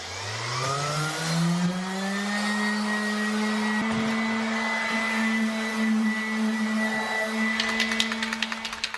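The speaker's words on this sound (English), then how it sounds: "So I'm just gonna sand them up." A power sander spins up on rusty metal keyboard-stand brackets, rising to a steady whining hum with a brief knock midway and scratchy grinding bursts near the end.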